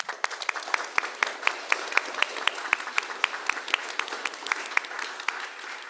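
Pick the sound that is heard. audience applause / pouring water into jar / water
audience applause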